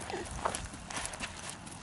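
A horse trots with hooves clip-clopping in a short, faint run of steps, alone and without speech.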